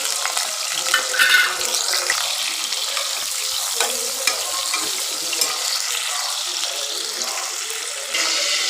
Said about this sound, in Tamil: கடுகு பொரிஞ்சதையும் ஒரு பெரிய வெங்காயம், பச்சை மிளகாய், கருவேப்பிலை 3 சேர்த்துக்கலாம்.